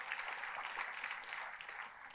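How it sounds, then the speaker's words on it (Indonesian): Church congregation clapping during a sermon, a dense, steady patter of many hands heard fairly softly and evenly for the whole moment, with no talking. "Tepuk tangannya pula yang paling meriah buat Tuhan kita"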